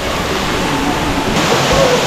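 A mountain waterfall pours into a natural bathing pool high in the Andes near Santa Rosa de Canchacalla, a steady, close, full rush of falling water with no break.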